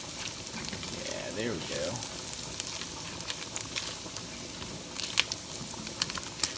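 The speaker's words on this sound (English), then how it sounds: "the oils that have been rendered off the pancetta start to activate the garlic" Garlic frying in rendered pancetta fat inside a Dutch oven, a steady crackling sizzle running throughout with brief clinks of stirring, while a voice talks briefly over it.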